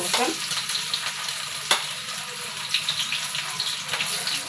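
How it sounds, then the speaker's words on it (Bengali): Garlic fries in a pan with dried red chillies, a close, steady hiss and crackle of hot oil, with light scraping from stirring underneath and no voices. "রসুনটা হালকা নাড়াচাড়া হবে"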